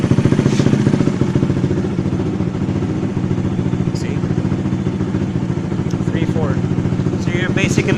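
A Honda CB110 motorcycle engine runs steadily and loudly at idle during carburetor tuning, a dense, continuous mechanical drone throughout with faint clicks and brief higher squeaks near the end.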